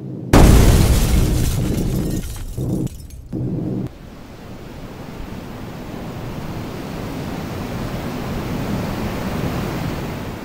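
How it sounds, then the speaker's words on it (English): An anti-aircraft flak explosion sound effect: a loud, deep blast bursts in suddenly, broken by a few brief cuts, then settles into a long, rumbling roar that slowly thins out. "Almost immediately after they crossed the German coastline, their B-17 was struck by anti-aircraft flak."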